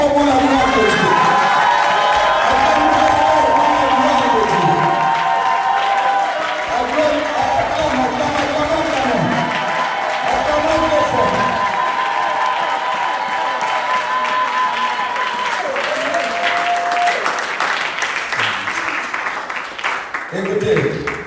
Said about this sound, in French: Acclamons très fort pour la gloire de Dieu.